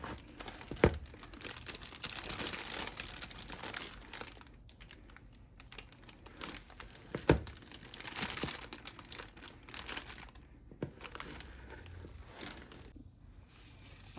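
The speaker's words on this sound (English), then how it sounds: "Everything going in the bag." A plastic bag crinkles and rustles as lamb manicotti filling is spooned into it, with a few sharper crackles standing out over a steady, close-up rustling.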